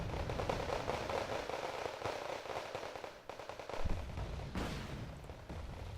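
Rapid automatic cannon fire from a Tunguska anti-air vehicle shooting at a Seahawk helicopter in Wargame Red Dragon: continuous rattling bursts with heavier booms mixed in, loud and dense, with no voices.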